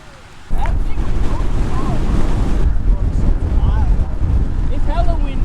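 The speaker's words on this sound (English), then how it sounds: "It's hella windy." Gusty wind roars loudly into the microphone during a motorcycle ride in Alaska after a short quiet start, with faint voices and chirpy sounds scattered underneath.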